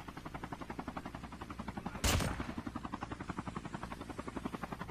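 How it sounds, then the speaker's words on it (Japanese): A helicopter in the mobile shooter Call of Duty Mobile gives a steady rhythmic rotor chop throughout, interrupted midway by a single loud burst like a gunshot or impact. "なんかヘリ乗って帰ってきたから"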